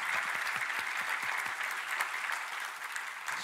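A church congregation claps together in loud, sustained applause that fills the room evenly from start to finish, with no individual voices standing out.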